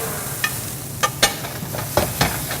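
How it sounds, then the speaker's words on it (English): Red pepper and fresh broccoli fry in a hot pan with a steady close sizzle, broken by several sharp clicks and scrapes from stirring, with no voices. "Listen to that sizzle."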